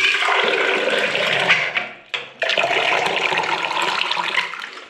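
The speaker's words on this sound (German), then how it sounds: "jetzt müssen wir hier aus diesen Hähnen eine Mixtur aus kalt und warmem Wasser machen" Water running from bathroom taps in a camper, a continuous rushing hiss that briefly cuts off and drops in level partway through before resuming strongly and fading slightly at the end.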